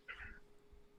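A single short cat meow, moderately close and fairly faint, rising briefly at the start and fading within a second, with no talk over it.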